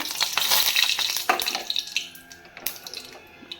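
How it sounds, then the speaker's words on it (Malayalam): Chilies fry in hot coconut oil for a curry, a loud, close sizzle and crackle broken by the scrape and clatter of a spoon stirring the pan, then easing to a lighter spatter. "അതിലേക്ക് ആദ്യം നമുക്ക് നമ്മുടെ മുളകിട്ട് കൊടുക്കാം. അത് കരിഞ്ഞു പോകരുത്, ഒന്ന് ഇളക്കി കൊടുക്കുക."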